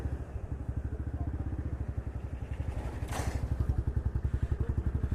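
A Royal Enfield Bullet BS6 motorcycle fitted with a bend pipe exhaust idles nearby with a steady, deep, evenly spaced thumping beat and a brief clatter midway.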